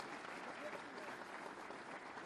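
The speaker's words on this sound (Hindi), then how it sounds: "मैं चाहूंगी तालियों के प्रणाम आप उन तक पहुंचाएं।" A crowd at an appointment-letter ceremony applauds for the chief minister, a faint, distant, even patter of clapping lasting a couple of seconds.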